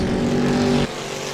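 A race car engine in a heat race at New Smyrna, running poorly and smoking, drones with a rough, uneven tone, then abruptly drops off as the throttle is released.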